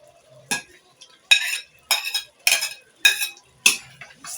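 A spoon stirs a vegetable stew in a pot with about six distinct scraping, clinking strokes in a steady rhythm. The stirring is close and clear, with near silence between strokes and no talking.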